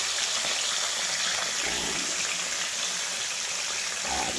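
Tilapia fries in a pan with a steady, close, hissing sizzle that holds evenly for several seconds, with no talking.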